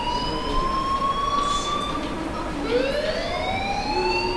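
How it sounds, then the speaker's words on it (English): In the video game Life is Strange, a wailing alarm rises and falls in long sliding tones, loud and continuous, with a second overlapping siren sweep joining partway through. "do you hear that fire alarm?"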